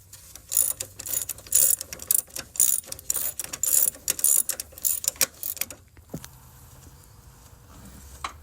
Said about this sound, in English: I'm just going to be tightening this one down with the ratchet